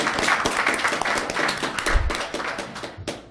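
Scattered clapping from a conference audience, a few pairs of hands tapping unevenly for a few seconds, fairly close and moderately loud.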